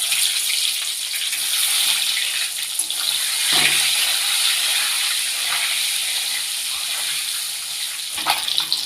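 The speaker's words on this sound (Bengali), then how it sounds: "আমি এবার ডিমগুলো ভেজে নেব।" Eggs fry in hot oil seasoned with salt and turmeric, giving a continuous close, hissing sizzle throughout with a few faint clicks and soft knocks.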